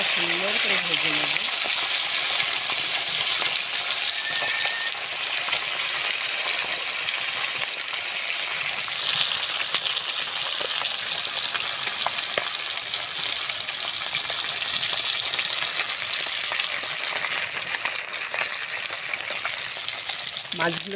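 Live fish sizzling and crackling steadily in hot oil in a pan for a village-style Bengali fish curry, a continuous loud, close frying hiss with light stirring touches, and a brief voice at the start and end.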